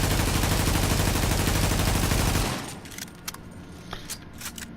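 A G36 carbine rifle in The Division firing rapid automatic fire for about two and a half seconds, loud and dense, then a few sharp metallic clicks and clacks afterward.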